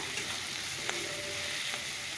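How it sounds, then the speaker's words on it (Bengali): Potatoes and beans fry in oil with nigella seeds and green chilli, making a soft, even sizzle throughout with a couple of faint clicks from the pan. "আলু আর বিম কেটে নিলাম একটু ভাজা করে নিই"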